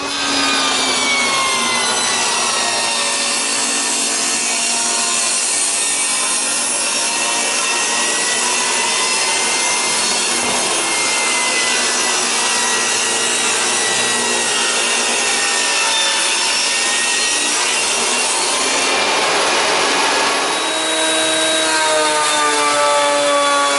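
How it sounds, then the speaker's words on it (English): A power saw cuts a board along a straight edge clamped to it, one long steady rasping cut that stays loud and close for over twenty seconds and changes pitch near the end, with no talking. "you clamp it to the board, and you run your saw along it"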